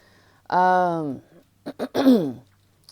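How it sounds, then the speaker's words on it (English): A person with chest congestion clears their throat with a long, rasping, voiced rumble, followed by a couple of short coughs and another throaty clearing. "Sorry for the coughing."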